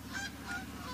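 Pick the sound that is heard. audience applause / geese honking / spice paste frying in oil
geese honking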